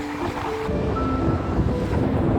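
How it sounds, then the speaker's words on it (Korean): Strong wind buffets the microphone beside the Nakdong River as a loud, steady rumbling roar with gusts, and no talk. "지금은 바람이 굉장히 많이 불고 있어요"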